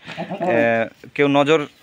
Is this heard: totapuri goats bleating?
yes